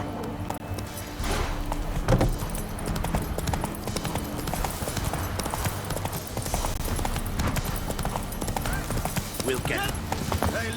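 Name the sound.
horse galloping in video game The Witcher 3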